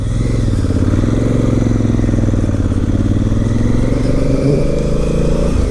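A 2017 Honda Africa Twin motorcycle pulls away in second gear, its parallel-twin engine thrumming loud and close with a steady throbbing pulse as it rides on, with wind rumble.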